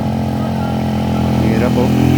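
Motorcycles climbing the steep Snake Road in Barangay Mabato, Calamba, Laguna, a loud close engine drone laboring steadily uphill, with a rider's voice over it.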